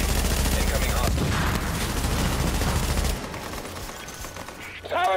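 Sustained heavy gunfire in the Tom Clancy's The Division video game rattles as a dense, loud fusillade for about three seconds, then drops to a quieter background of combat noise with a voice briefly heard at the end.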